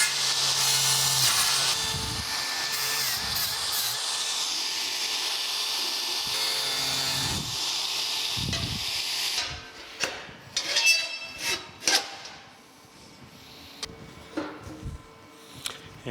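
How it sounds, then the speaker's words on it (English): A wire wheel scours rust from a steel joint on a ZT Fab welding cart, a loud whirring grind for about the first nine seconds, followed by quieter scattered scrapes and knocks of metal. "I am going to take my wire wheel and just again clean this up, make sure we're not welding any rust in here"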